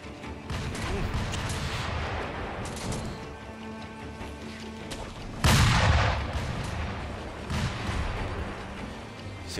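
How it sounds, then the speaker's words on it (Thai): Gunfire and booming blasts in the video game Sekiro: Shadows Die Twice, with a sharp loud burst midway over a busy, continuous layer of game noise. "เสียงปืนต้องรุนแรงมาก"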